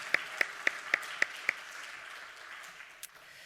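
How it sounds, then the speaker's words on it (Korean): Church congregation clapping during a Korean Sunday afternoon worship service: six sharp claps in an even rhythm, as if in unison, then the clapping trails off into faint scattered sounds of the room. "우리 한 번 더 박수 치도록 하겠습니다"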